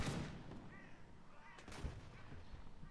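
A cannon fires in the Napoleonic-era Mount & Blade game, a booming blast at the start followed by another distant report amid battle noise, fairly faint overall.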